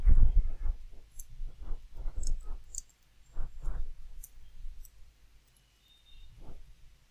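Sparse mouse clicks from someone working at a computer in BluePrism RPA software, with a few soft, close clicks scattered irregularly over quiet room background and no speech.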